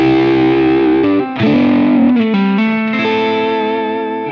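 Nearly clean electric guitar through an Xotic Soul Driven pedal with the mids rolled back, a steady phrase of ringing chords and single notes with a brief pause, loud and close, no talking.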